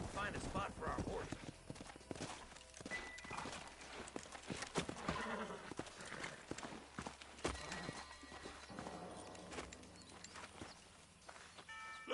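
Horse hooves clip-clop steadily in the Red Dead Redemption video game as riders move along, with a game soundtrack and characters talking over the hoofbeats.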